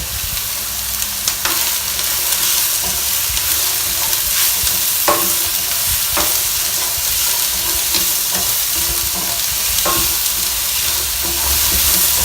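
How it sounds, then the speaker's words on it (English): Finely diced onions and mushrooms fry in olive oil, a loud continuous hiss of sizzling close by, broken by occasional stirring clacks of a utensil against the pan, no speech. "So now I'm going to add the onions, all"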